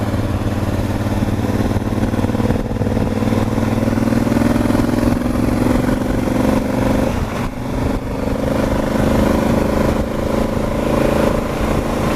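Motorcycles rumble past on an open rural road somewhere in France, a steady loud engine drone holding throughout with a slight dip and swell as the bikes go by, heard from a riding motorcycle.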